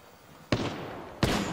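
Two sharp gunshots in Apex Legends, each a close, loud crack with a brief ringing tail, about seven tenths of a second apart over a quiet background.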